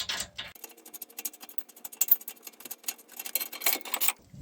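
A ratchet clicks in quick, uneven bursts while loosening a brake caliper bolt on a 2006 Infiniti M45 rear brake, the close metallic ticking quiet and unaccompanied by speech.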